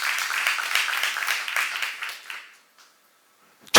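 Church congregation applauding during a sermon, a dense patter of clapping that fades out after about two and a half seconds into near silence, with a brief sharp sound at the very end.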